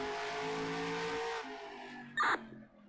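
A racing video game car accelerates hard, its engine tone climbing loud and steady before easing off, then a short bright burst of tire squeal or skid near the end as the sound fades.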